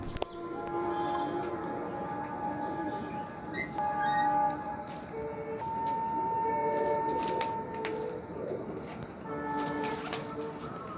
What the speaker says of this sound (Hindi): इनके कबूतर उड़ाए हैं